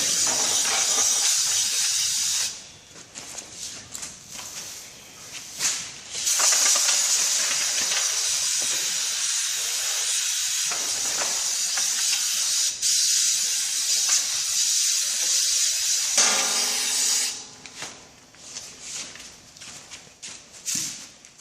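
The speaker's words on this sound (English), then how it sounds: "use one of these sprayers to spray it on and apply it" Pump sprayer bursts of fine mist hiss in long stretches, loud and close, spraying surface cleaner on a Hallicrafters S-38B radio during restoration, with brief pauses between sprays.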